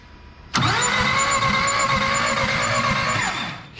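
A 1966 Ford Mustang engine cranks and fires abruptly, then runs at a steady, loud idle with a rhythmic low chug, nearby.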